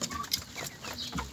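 Turkeys and chickens cluck in a busy mix of short, overlapping calls with fowl chatter, fairly close and steady throughout.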